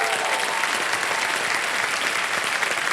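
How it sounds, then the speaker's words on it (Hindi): Studio audience at a quiz show breaks into sustained, even applause for a contestant, a dense wash of clapping hands that stays loud throughout with no talk heard. "ताली बजाएं इनके लिए।"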